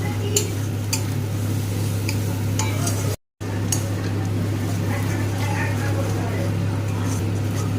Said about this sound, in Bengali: দেখুন মশলাটাকে ভালো করে কষিয়ে নেব।